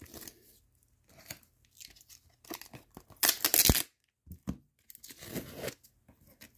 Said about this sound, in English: Rip it right down. Rip it around.